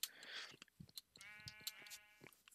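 Minecraft sheep bleating several times while being sheared, short wavering calls standing alone and close, with small clicks between them.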